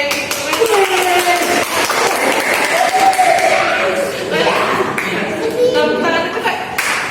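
A classroom group claps hands quickly in a dense, rapid patter, close and loud, with a teacher's voice and chatter running over the clapping throughout.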